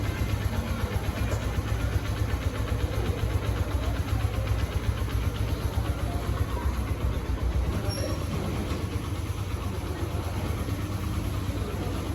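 An overheated engine runs continuously at a steady idle, a loud low droning hum with a fast mechanical flutter throughout and no talking.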